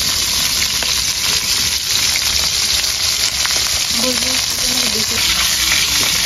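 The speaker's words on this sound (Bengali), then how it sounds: "ইলিশ মাছের মাথা ভাজা হয়ে গেছে" A hilsa fish head frying in hot oil, a loud, continuous close-up sizzle with bubbling crackles and faint stirring throughout.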